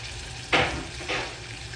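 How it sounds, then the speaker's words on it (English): Garlic cooking in melted butter in a pot for garlic parmesan wings, heard as a low steady sizzle with two brief louder hissing swells. "We're gonna cook down that garlic just a little bit because you don't wanna eat it raw."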